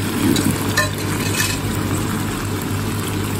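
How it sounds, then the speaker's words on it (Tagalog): Onions frying in a pan during home dinner preparation, a low, steady sizzle with faint crackles and a constant background hum, with no talking. "Maluto lang yung fried onions."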